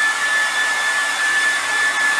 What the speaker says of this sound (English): I'm drying this patch, this skim coat. You can use your basically hair dryer, heat gun.